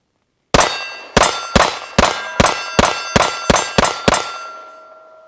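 Nine sharp gunshots from a handgun firing Fiocchi ammunition, each followed by a ringing metallic clang from a struck steel target, in a fairly steady rhythm, with a long ring fading out after the last hit.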